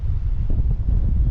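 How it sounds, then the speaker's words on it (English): Strong gale-force wind gusting on an exposed hilltop near Hardknott and Wrynose passes buffets the microphone, producing a heavy, continuous low rumble with no voices. "It's blowing a bloody gale up here."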